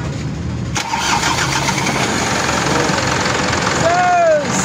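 A Mitsubishi 4M50 diesel engine cranks and catches within about a second, then settles into a loud, close, rough idle, with a brief whine near the end.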